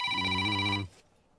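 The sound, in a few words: telephone ringing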